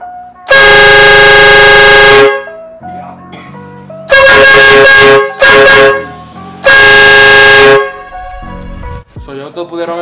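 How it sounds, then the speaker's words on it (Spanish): A single air horn of the train-horn type fitted to a 2003–2007 Honda Accord blasts three times, very loud and close, each a long harmonic honk with brief quiet gaps between. "Esto es solo una sola corneta."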